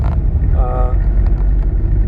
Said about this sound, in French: Je la laisse volontairement à bas régime, j'adore le bruit de ce moteur.